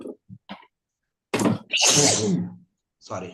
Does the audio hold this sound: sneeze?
yes